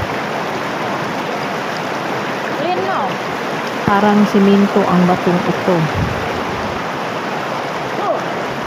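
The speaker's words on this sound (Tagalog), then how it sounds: "nandito po kami ngayon sa ilog" Flowing river water runs as a steady broadband wash beneath someone speaking Tagalog, with a brief tonal burst partway through, at a spot where a river forks in a Y shape.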